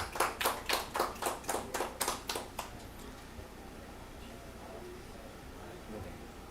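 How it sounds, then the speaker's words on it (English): At a conference presentation on monitoring ecosystem carbon absorption, an audience gives about ten sharp, evenly spaced claps over a couple of seconds, then the clapping stops abruptly and a quiet room follows. "Please welcome Ho with a big applause."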